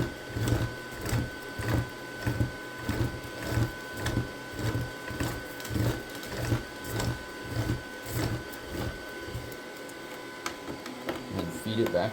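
An ANYCUBIC Ace Pro multicolor unit retracts filament on a 3D printer, producing a rhythmic series of whirring motor pulses that ends in a brief lull as a person talks over it.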